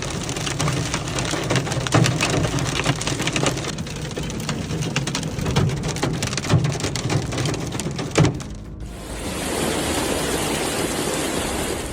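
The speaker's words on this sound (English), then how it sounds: "Torrential rain paired with violent winds battered Ribeirão Preto, Brazil, leaving widespread destruction across the city." Torrential rain lashes down with violent winds during a storm in Ribeirão Preto, Brazil, a dense, steady roar of pounding water and gusts that stays loud throughout and shifts to a smoother hiss near the end.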